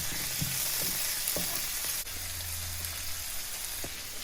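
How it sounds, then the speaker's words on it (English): Garlic and tomatoes simmer in a pan with a steady, close sizzle and bubbling hiss, broken by a few light clicks and taps. "The garlic. The tomatoes. And let it simmer for about 1 minute."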